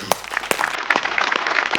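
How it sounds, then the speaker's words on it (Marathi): Loud clapping and cheering from a live comedy-show audience as a stage performer is called on, broadband and sustained with sharp bursts throughout. "जोरदार टाळ्या"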